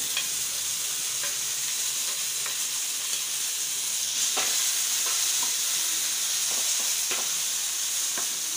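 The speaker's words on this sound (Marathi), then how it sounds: "कोथिंबीरही यात फ्राय करून घ्यायची." Coriander fries in a pan with chopped tomato and garlic, giving a steady loud sizzle with occasional scraping stirs, and no voices.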